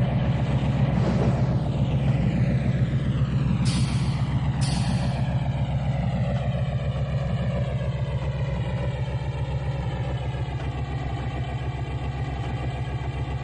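Steady diesel locomotive engine drone in the Trainz railway simulator, with two short sharp hissing bursts from the independent air brake partway through and a long falling whine underneath.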